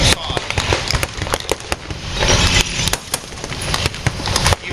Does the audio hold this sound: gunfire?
yes